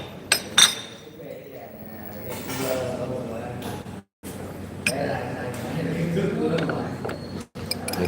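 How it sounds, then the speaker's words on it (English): A spoon clinks against a glass while a drink is stirred, with a few sharp chimes near the start, followed by softer rattling and scraping as people talk over it. "Let me stir it and then let me put some ice."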